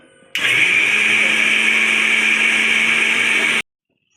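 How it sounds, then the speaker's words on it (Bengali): A kitchen mixer grinder whirring at full speed as it grinds soaked rice with chilli, a loud steady motor drone that starts abruptly, holds for about three seconds and stops sharply, with no talk. "মিক্সারে এখন"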